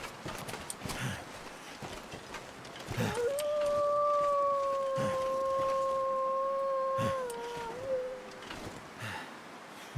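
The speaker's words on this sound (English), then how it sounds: "Trying to act like a timber wolf." A timber wolf in a video game howls in one long, steady, sustained cry that slides down at the end, set over scuffing footsteps and ambient game noise.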